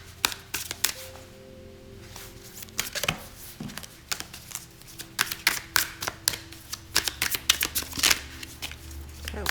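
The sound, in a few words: shuffling a deck of tarot cards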